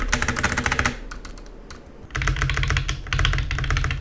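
Fast, clattery typing on a hollow-sounding plastic keyboard, continuous key clicks with a brief quieter pause in the middle.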